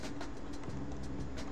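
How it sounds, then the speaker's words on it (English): A passing space train in the video game StarMade, heard as a steady, dense rumble with faint rhythmic clicks, continuous and fairly close throughout, with no talk. "Hey look, it's like a space train."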